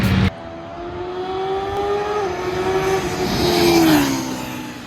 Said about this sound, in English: what does this bike sound like from the outside?